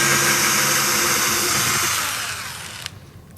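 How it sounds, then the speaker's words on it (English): A power drill backs screws out of an old motorhome's air vent bracket, a loud whirring buzz that winds down and stops after about two seconds, followed by a faint click. "Pull these 2 screws out."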